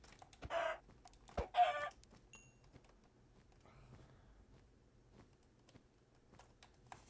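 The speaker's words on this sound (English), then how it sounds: "That's why I'm gonna kill this chicken right here." A chicken clucks a few times in a survival video game as it is struck and killed, with short sharp squawks early on, then fainter rustling.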